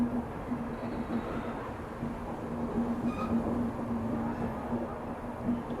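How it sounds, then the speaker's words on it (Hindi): Diesel shunter locomotive moving a parcel van in a rail yard, giving a steady low rumble with a constant engine drone and faint metallic squeaks, moderately distant and continuous throughout. "अच्छा, ये पार्सल वैन की शंटिंग कर रहा है मेरे ख्याल से"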